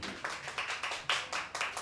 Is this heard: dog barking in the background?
no